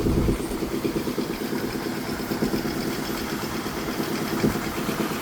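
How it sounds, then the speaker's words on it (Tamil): A concrete vibrator machine works during building roof concreting, a steady, close engine drone with a fast pulsing rattle that runs throughout. "அது வைப்ரேட்டரா வைப்ரேட்டர்னா அந்த கலவை உள்ளே இறக்கிறதுக்காக"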